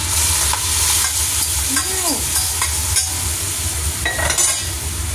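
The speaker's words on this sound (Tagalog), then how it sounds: "Halo na natin yan." A spoon stirs a pot of monggo mung bean stew with kalabasa squash and pork, scraping and clinking against the pot over a steady bubbling sizzle, with a faint squeal in the background.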